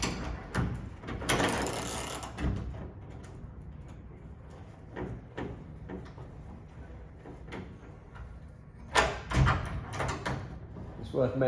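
Bolts on a dome shutter drive bracket are tightened with a ratchet in short clicking bursts and metallic knocks, close up, between stretches of a person talking.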